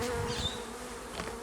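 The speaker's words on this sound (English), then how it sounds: "the bees are going crazy." Honey bees swarm around an open hive while a super is being added, a dense continuous buzzing hum close to the microphone with individual bees whining past, and no talking.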